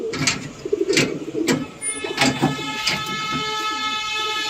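Flying pigeons at a home loft coo in repeated soft throaty calls, several birds close by against a steady mechanical hum in the background.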